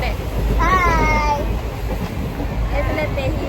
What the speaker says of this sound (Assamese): এইফালে আমি ট্ৰেইনত উঠিলোঁ দেই